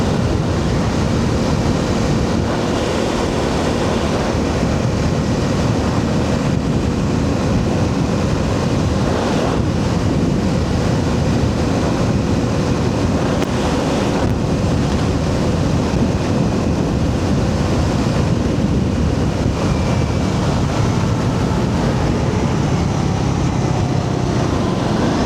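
A 2026 Triumph 400 XC motorcycle cruises in sixth gear at 55 mph. Heavy wind rush buries a steady engine drone, and the noise stays loud and unbroken for the whole stretch.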